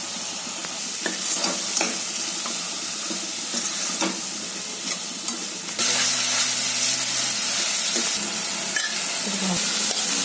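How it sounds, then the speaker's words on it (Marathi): Chopped tomatoes tipped into a hot pan of oil and spices for a ridge gourd masala, a loud close sizzle that jumps up midway as they hit the oil, with stirring scrapes throughout. "आता टमाटे घालते"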